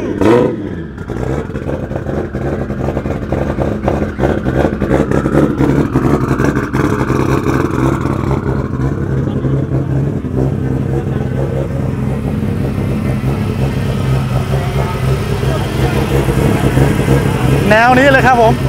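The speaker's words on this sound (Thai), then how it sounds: "นี่เสียงท่อครับ" A modified BMW E34 fitted with a 2JZ engine revs its aftermarket exhaust at close range, a continuous loud engine roar with rising and falling revs lasting throughout, with people talking over it.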